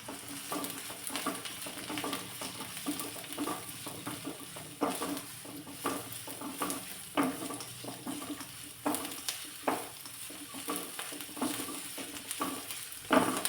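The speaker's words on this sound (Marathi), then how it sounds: "थोडासा लालसर कलर येईपर्यंत कांदा परतून घेतला" Chopped onion sizzles in a pan while being stirred for a sautéed red-tinged finish, with a steady frying hiss broken by frequent clinks and scrapes of a spoon against the pan, close and alone with no talking.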